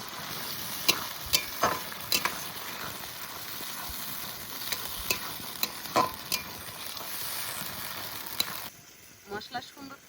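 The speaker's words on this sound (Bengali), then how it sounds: "মশলা সুন্দর তেল ছেড়ে দিয়েছে," Spice paste of ground cumin, coriander, dried red chilli and black pepper frying in oil, a steady close sizzle broken by sharp clacks of stirring, dropping quieter near the end.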